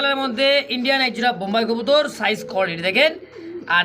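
Pigeons at a pigeon farm coo in repeated rolling, throaty calls, close and prominent, overlapping one another continuously with no pauses throughout.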